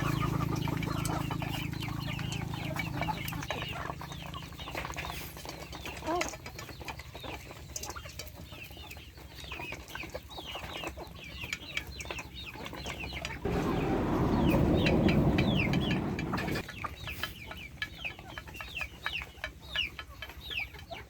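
Chickens cluck and call steadily at close range while feeding alongside Muscovy ducks on a farm, with scattered scratching and a louder burst of activity partway through.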